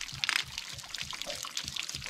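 Water drains from a pop-up camper's water tank out the open end of a hose, a faint, steady trickle and patter of drips with soft irregular splashes.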